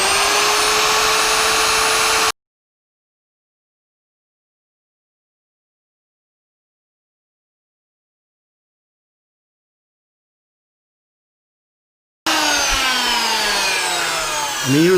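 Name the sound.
router bit shaving wood off a guitar body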